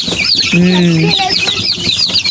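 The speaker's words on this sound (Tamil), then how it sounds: "கோழி குஞ்சு பாருமே" Backyard chickens and chicks clucking close by, a hen's sustained call rising above a steady chorus of chick peeps, with brief voices underneath.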